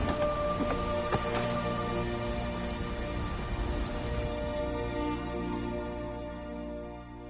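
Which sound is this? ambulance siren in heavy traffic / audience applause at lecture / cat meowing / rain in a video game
rain in a video game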